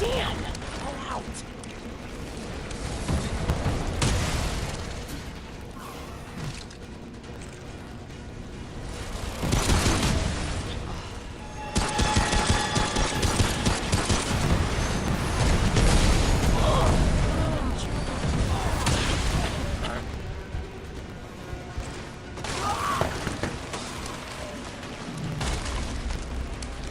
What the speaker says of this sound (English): the dude has like this explosion that follows you everywhere